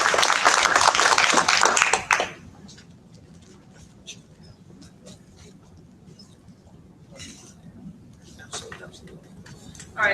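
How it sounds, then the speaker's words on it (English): An audience applauds at an IT summit, a dense burst of clapping lasting about two seconds that stops abruptly, followed by quiet room noise with a few scattered sounds. "another hand of applause"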